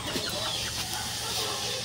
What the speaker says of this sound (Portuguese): os galos cantando